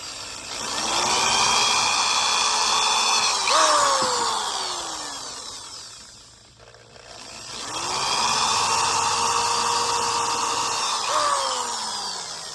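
A power drill whines at high speed, bogging down and spinning up as it bores holes through a plastic pool skimmer basket, two long bursts separated by a brief quiet pause.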